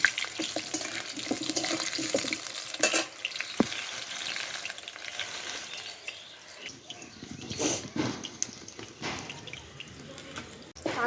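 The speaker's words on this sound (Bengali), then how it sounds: "লাল লাল করে আলুটা ভেজে নেব।" Potato pieces frying in a pan until reddish, a steady sizzle mixed with watery splashing and stirring clatter, with a couple of sharper knocks, no speech.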